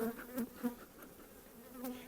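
Honey bees buzz close by around a hive in overlapping, wavering drones that rise and fall as they move around, with no voices present.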